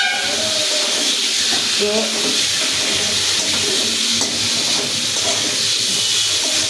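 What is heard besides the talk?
spice paste of garlic, ginger, cumin, chili frying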